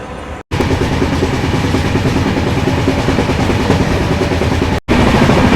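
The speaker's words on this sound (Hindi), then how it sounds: "नॉर्मल BTPN गाड़ी ओवरटेक कर रहा है, फ्रेट ट्रेन" An ordinary electric BTPN freight train overtaking the Shatabdi Express on an electrified high-rise pantograph section in India: a loud, continuous rumble with a steady clickety-clack of wagons rolling past close by, broken by two brief dropouts.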